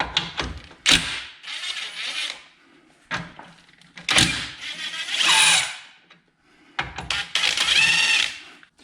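Power tool zipping off caliper nuts on a Ford Mustang SVO during a shock and camber plate job, several short whirring bursts separated by pauses, close and loud with no talk.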